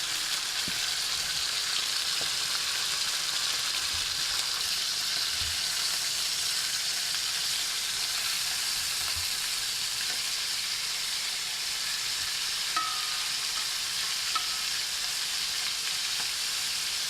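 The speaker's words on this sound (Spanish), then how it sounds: "Lo marcaremos unos 10 minutos aproximadamente, hasta que quede un poco dorado." Seasoned chicken sears over high heat in a pan, giving a steady, close, even sizzle of frying that holds throughout with no talking.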